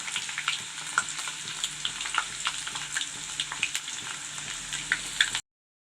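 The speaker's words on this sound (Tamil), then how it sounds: "நல்லா அப்படியே வறுத்து விட்டுக்குங்க." Chana dal fries in a pan with a steady, dense crackle and sizzle, close and continuous with small pops throughout, then cuts off abruptly at the end.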